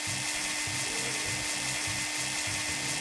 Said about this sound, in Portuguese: Dá-lhe bateria nessa furadeira.